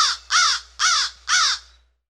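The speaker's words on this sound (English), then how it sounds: "The crow is going to continue to circle us for a while." A crow circling overhead gives three loud, harsh caws in an even rhythm, close and clear against a quiet background with a low steady hum.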